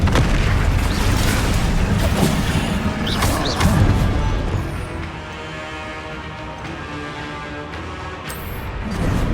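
Fire spell cast in Hogwarts Legacy during a battle at the shore, a loud burst and crackling whoosh that fades into a lower rumbling tail before another swell at the end.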